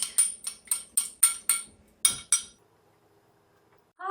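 Spoon stirring a morning cocktail drink in a glass, about ten sharp rhythmic clinks against the glass over two and a half seconds, then quiet, with a brief voice at the end.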